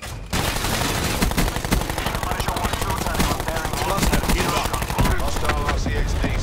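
Rapid, loud, continuous machine-gun fire from a gunship in Call of Duty: Black Ops 4 rattles through the whole stretch with dense overlapping bursts and no talk.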